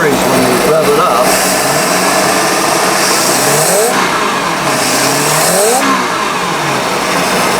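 A carbureted Mercruiser 5.0 V8 boat engine, running rough, revs up and down repeatedly, loud and close with rising and falling engine pitch, while a person talks over it.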